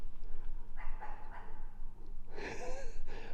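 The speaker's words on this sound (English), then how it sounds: "there's a guard dog" A hound-type guard dog at an abandoned fluorspar mill gives a few barks and whimpers, fairly close, over a steady low background hum, with the loudest burst near the end.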